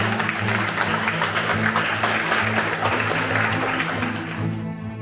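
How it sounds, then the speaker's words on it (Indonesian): Audience applause at an Indonesian youth congress event, a steady wash of clapping from a crowd that holds throughout, with a low musical hum underneath and the clapping thinning near the end. "Kita berikan tepuk tangan."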